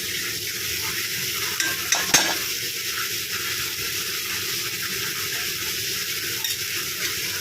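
Tomato and onion with ground green chili, garlic and salt stirred in a pan over low heat for an okra dish; a steady soft sizzle runs throughout, with a few brief spoon scrapes near the middle.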